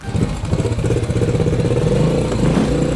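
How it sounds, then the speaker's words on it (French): A motorcycle engine runs loud and close after a push start on a farm, a steady, lumpy, throbbing rumble with rapid firing pulses throughout. "il faut savoir démarrer à la poussette chez nous"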